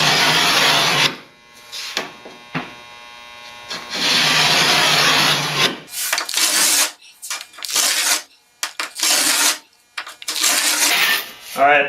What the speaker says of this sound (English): Kind of like drywall with a utility knife, but you're using the scraper with a carbide bit.